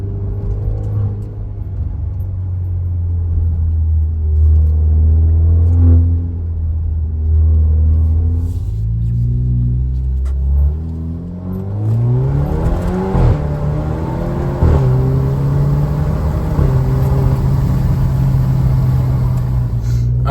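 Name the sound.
Alfa Romeo Stelvio 2.0 Monza exhaust, manual mode through gears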